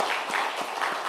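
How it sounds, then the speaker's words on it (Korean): Church congregation applauding together at a Sunday afternoon service, a dense steady patter of clapping with a few louder bursts, brief and moderately loud, with no talk over it. "박수 한번 합시다."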